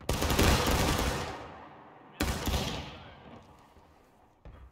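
Two musket volleys crack out in the War of Rights video game, each a dense burst of overlapping shots that rolls off into a long fading echo, with a smaller shot at the end.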